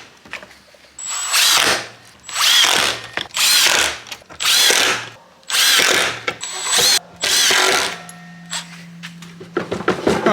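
A power drill drives 1 1/4-inch Robertson-head screws into pocket holes made with a pocket hole jig, during a camper van toilet install: seven loud, close whirring bursts with short pauses between, then small clicks and knocks.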